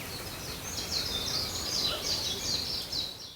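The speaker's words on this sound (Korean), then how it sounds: "이거는 섬휘파람새입니다. 섬휘파람새의 노래입니다." A Japanese bush warbler sings repeated whistled phrases at moderate distance in a spring forest in Jeju, outdoors over steady ambient noise.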